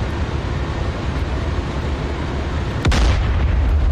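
A tank cannon fires once in the DCS World combat simulator, a single loud, sharp boom that rolls into a heavy low rumble over a steady background drone of engine noise.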